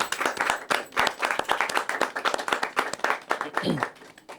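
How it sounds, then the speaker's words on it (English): A room of people claps for a team member at a startup founder gathering, a brisk patter of applause with talking mixed in over the clapping for a few seconds. "can I have a massive round of applause for him?"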